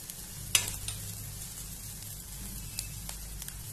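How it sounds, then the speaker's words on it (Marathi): Fresh coriander being stirred into a traditional Tulsi Vivah prasad dish frying in a pan, a faint soft sizzle with a few light clinks and scrapes of the spoon, close and quiet, no talking. "कोथिंबीर व्यवस्थित मिक्स करून घ्यायचंय"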